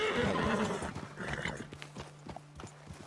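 In the video game Red Dead Redemption 2, horses whinny loudly at first, then hooves clip-clop in a steady rhythm as the animals slow down, fairly close by.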